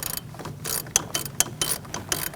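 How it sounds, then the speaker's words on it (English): A 1/4-inch ratchet tightens thermostat housing bolts on a 2016-2019 Chevrolet Cruze 1.4L, giving a close series of rapid clicking bursts in quick, uneven strokes. "we're going to switch to our 1/4-inch ratchet just so we can feel it when it gets a little tighter"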